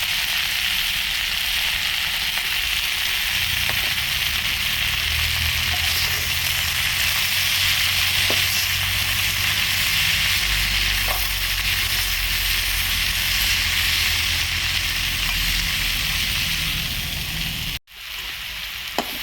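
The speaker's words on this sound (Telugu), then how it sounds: "ఇది బాగా ఇలా వేగిందండి." Broad beans frying in a pan with garlic chili powder give a loud, continuous sizzle that holds steady, then stops abruptly near the end with a brief clatter.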